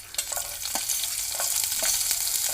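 Crushed curry leaves and finely chopped green chillies hit hot oil with a sharp sputtering sizzle that settles into a steady crackle, with occasional pops close by and no talking.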